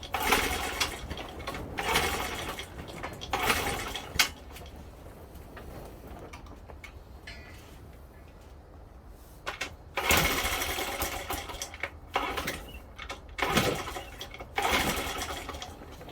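A cold Honda Z50 minibike runs with the choke on, its small engine chattering in uneven bursts that fade into a quieter lull before picking up again near the end.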